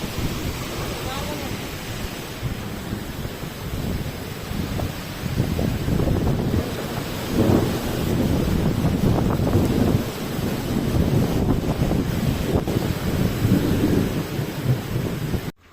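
Gusty wind roars and buffets the microphone in waves in a village during an unseasonal thunderstorm, a continuous low rumble that swells and fades, with rain and storm noise mixed in.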